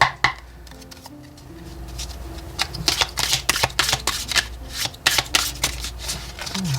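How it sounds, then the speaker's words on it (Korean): Tarot cards are shuffled close up in quick, papery riffles and snapping bursts, repeated several times with no talking. "한 번 더 셔플."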